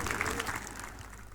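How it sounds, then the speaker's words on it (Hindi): Applause from the audience at a centenary celebration ceremony in Mumbai, a brief, soft burst of clapping heard at some distance. "तालियों की आवाज़ जोरदार हो सकती है।"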